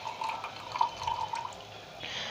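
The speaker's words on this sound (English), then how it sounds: "just pour these wax into the greased glass" Melted candle wax poured from a pan into a greased steel glass, giving a soft, close trickle and dripping splash that runs steadily for over a second before easing off.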